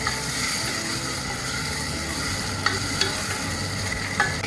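Tomatoes and carrot pieces frying in a pan over onions for sambar rice, a steady loud sizzle with a few scraping stirs and clinks mixed in.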